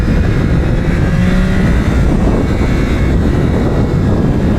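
Yamaha R9 sport motorcycle with an 890cc CP3 three-cylinder engine riding on a race track, a steady loud engine drone heavily buffeted by wind rush throughout, with no talk.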